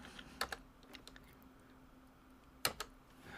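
Several sparse computer keyboard keystrokes, faint and fairly close: a few clicks near the start and a sharper pair later, with quiet room hum between and no talking.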